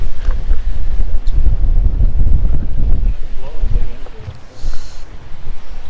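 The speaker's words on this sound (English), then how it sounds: "The wind is probably like 20 plus miles an hour right now" Strong wind, around 20 miles an hour, roars across the microphone on a lake bank during crappie fishing, loud low buffeting that eases slightly toward the end.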